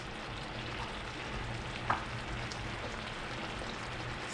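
Salmon fries quietly in a covered pan, a soft, continuous sizzle with one brief click partway through, and no one speaking.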